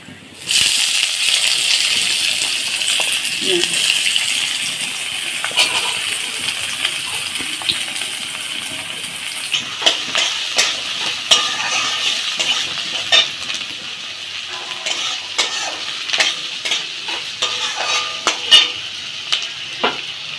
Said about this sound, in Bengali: এই তেলের মধ্যে পেঁয়াজ দিয়ে দেবো